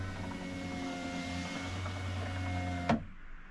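Front driver-side power window of a car running, a steady close electric motor whine that ends in a sharp thunk as the glass reaches its stop, then goes quiet.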